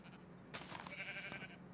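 Minecraft sheep giving a short bleat or two, moderately loud and fairly close, with no talk over it.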